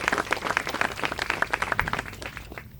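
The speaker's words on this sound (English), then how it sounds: "give them a round of applause" Crowd applause at an outdoor groundbreaking for a WWII memorial in San Angelo on the D-Day anniversary, with steady dense clapping from many hands held at an even level for a few seconds before thinning at the end.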